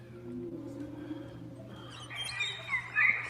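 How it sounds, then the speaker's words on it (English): Cricket chirps slowed down until they resemble birdsong: faint, quiet warbling chirps over a low steady hum, growing busier and slightly louder in the last second. "We can see that if we slow crickets down, we're back at birds."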